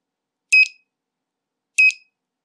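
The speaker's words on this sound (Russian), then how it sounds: "Что-то пищит" Two short, sharp electronic beeps from a DIY electronic clock kit, spaced over a second apart, high-pitched and clear against silence.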